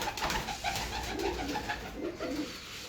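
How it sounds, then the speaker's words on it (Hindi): A pigeon coos close by, repeated rolling low calls in an uneven rhythm, with other birds faintly around it and no talking. "बहुत आला कबूतर है माशाल्लाह"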